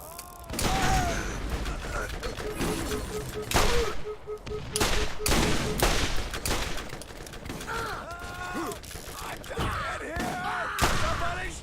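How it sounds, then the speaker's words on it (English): Desert Bruiser gun in Borderlands firing in rapid repeated bursts, loud and close, with dense volleys of shots, mechanical clicks and in-game effects between them. "the Desert Bruiser does put out a hell of a lot of ammo"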